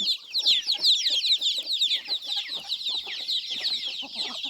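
A flock of chickens clucks and chirps continuously nearby, a busy overlapping chatter of many birds with no talking.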